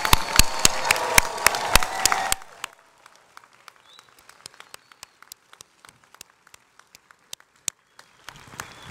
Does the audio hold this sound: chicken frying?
no